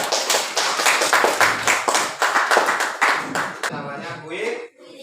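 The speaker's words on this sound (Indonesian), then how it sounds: "Oke, tepuk tangan untuk kelompok kita." Classmates clapping for a presenting group in a classroom, a dense round of hand claps that fades out near the end, with faint voices.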